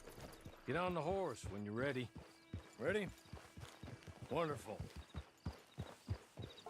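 Horse hooves clop in a loose walking rhythm in Red Dead Redemption 2, with a horse's whinny and snorts up close, while a voice speaks briefly over them.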